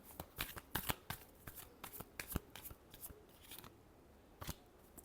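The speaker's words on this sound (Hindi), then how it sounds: "Last shuffle." Tarot cards being shuffled by hand in quick riffling bursts, a dozen or so crisp, papery flutters in an uneven rhythm, close and fairly quiet with no talking, tapering off toward the end.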